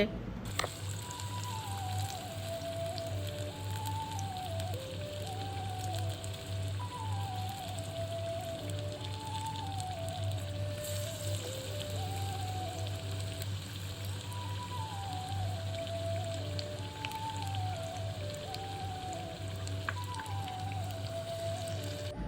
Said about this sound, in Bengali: কুমড়ানিটি এক পাশ ভাজা হয়ে গেলে আমি উল্টে দিয়ে আর এক পাশও ভালো করে ভেজে নিব